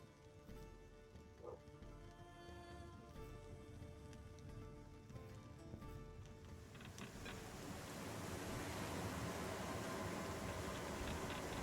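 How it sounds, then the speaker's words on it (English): Crashing ocean waves played as stormy sea ambience keep up a continuous broad wash of surf that swells louder toward the end, with no voices over it. "There are waves crashing violently back and forth"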